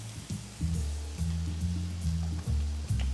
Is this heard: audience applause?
no